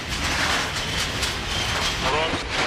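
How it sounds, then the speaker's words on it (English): A train rolls through a rail yard in Bosnia and Herzegovina, a steady loud rumble with faint clickety-clack and a brief squeal, continuous and close throughout. "Train does not seem to be slowing down."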